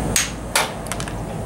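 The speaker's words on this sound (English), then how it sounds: "I'm going to use kind of a small hammer here that I've ground the end to kind of do the same thing as a chisel" A small hammer with its end ground like a chisel strikes fluorite to chip and cleave it, giving two sharp, close metallic taps followed by a few lighter ticks of falling fragments.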